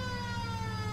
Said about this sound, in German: Verdammt, schon wieder die Sirene.